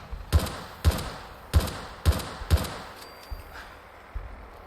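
Five sharp, loud gunshots from the video game Fallout 4, fired in a steady rhythm about half a second apart, each a hard booming crack, followed by a few fainter thuds and a thin electronic tone.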